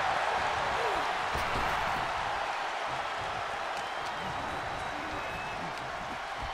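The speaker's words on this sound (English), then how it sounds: "Listen to this crowd." Virtual wrestling arena crowd in WWE 2K24 during a Royal Rumble match, a steady, loud roar of cheering and murmur with scattered claps, sustained throughout with no pause.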